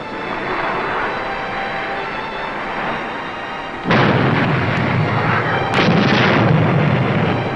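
A U.S. submarine's 20-millimeter deck gun fires in a 1950s naval war drama. A rumbling background suddenly gives way to a loud, dense burst of firing, which swells again near the end. No one speaks.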